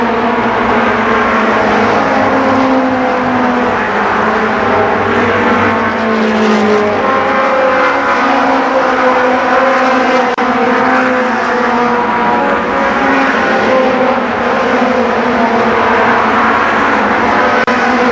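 Race cars roar steadily around Columbus Motor Speedway during the 1992 Fall Speedfest, a loud continuous engine drone with layered cars and shifting pitch, no talk heard.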